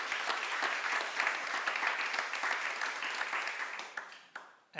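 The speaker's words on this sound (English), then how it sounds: "Let's clap Bill." A conference audience at a climate governance event applauds with dense, steady clapping that fades away at the end.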